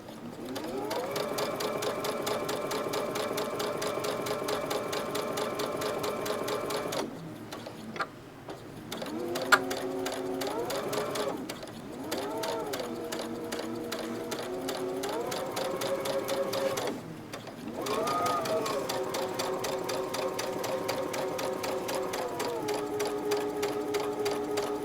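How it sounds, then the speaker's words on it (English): A sewing machine runs steadily, stitching quilt block pieces along a marked line, its motor whirring in long continuous bursts broken by brief pauses and slight speed changes, close and clear with no talking. "we're going to sew on the line from one end to the other"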